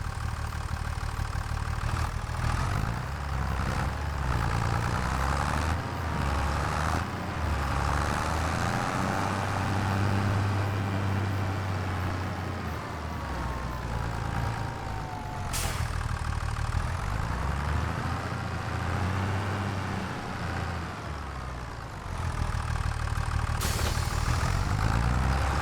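A tractor engine idles on a farm with a steady low rumble that stays close and continuous for the whole stretch, with a few faint clanks on top and no speech.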